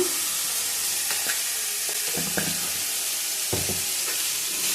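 Onions sautéing with salt in a pan while preparing a squid fry, a steady close sizzle broken by the scrape and clatter of a stirring spoon at irregular intervals, with no talking.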